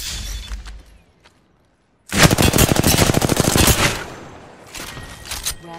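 Rapid automatic gunfire in the battle royale game Apex Legends erupts after a quiet lull, a loud, dense burst of shots lasting about two seconds, followed by quieter scattered fire and another short volley near the end.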